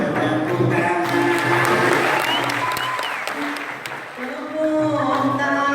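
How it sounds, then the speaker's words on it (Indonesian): Audience applause from invited guests and spectators at a madihin performance, a Banjar rhyming verse show, with steady dense clapping that eases slightly mid-way before swelling again, mixed with a warbling tonal sound throughout. "Tepuk tangan para undangan juga para penonton."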